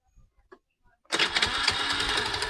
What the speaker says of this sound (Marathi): ही आमची गाडी चालू